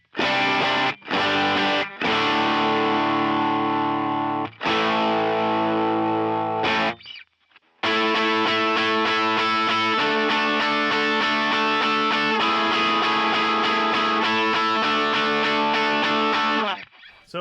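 Distorted electric guitar on the bridge pickup through an effects rig with hot treble and modest gain, playing loud sustained chords and riffs alone, with a brief break midway before continuing steadily.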